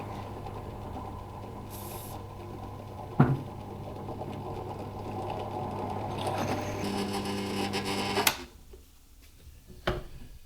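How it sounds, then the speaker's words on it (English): A power drill whirs steadily with a grinding mechanical hum, drilling a hole in a motorcycle tow hitch bar, cutting off near the end, leaving a couple of sharp knocks. "Something really therapeutic about drilling a hole."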